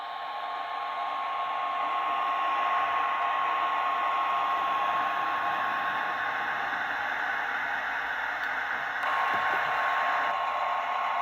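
HO scale Walthers Proto 85-foot Budd Metroliner Amtrak coach model with DCC sound, reversing slowly along the track with a steady, even hissing hum and a faint whine, alone with no talk.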